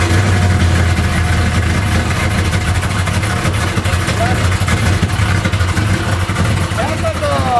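A supercharged GMC Sierra pickup's engine idles loud and close, a steady low rumble with an even pulse running throughout, with no talk over it.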